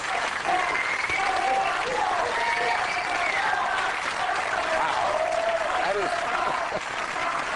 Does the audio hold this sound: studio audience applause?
yes